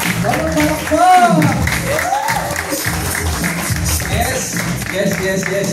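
Crowd applause at a live talk event, steady clapping from an audience mixed with shouts and a host speaking loudly over it.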